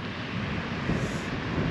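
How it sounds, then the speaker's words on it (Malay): Strong wind buffeting the microphone outdoors in a backyard spring garden, a steady broadband roar with gusty swells throughout and no talk. "Angin kuatnya."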